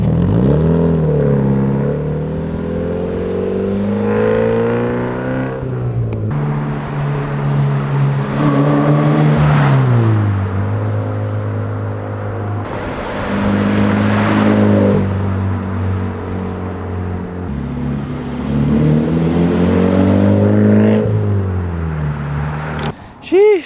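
A Subaru BRZ with an aftermarket Tomei exhaust makes repeated flybys, its engine note rising through the revs and dropping back in several loud acceleration runs, with gear changes between them and short gaps where it recedes.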